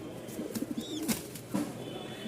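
Black Lahori pigeons cooing softly in a loft, a few low coos with faint wing flutters and a brief chirp, fairly quiet against background hiss.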